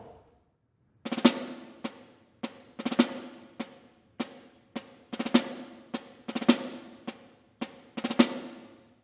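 Four-stroke ruffs on a snare drum, closed down tighter so the grace strokes bunch closely before each accent, repeating in an even rhythm after a brief quiet start, close and solo.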